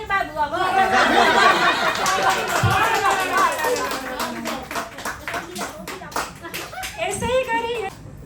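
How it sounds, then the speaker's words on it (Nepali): Audience applause at an annual community festival in Dubai: a loud burst of clapping that slowly thins into scattered claps, with chatter and laughter mixed in. "यसै गरी ताली बजाइदिनु होला"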